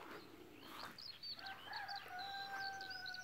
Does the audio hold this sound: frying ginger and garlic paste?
no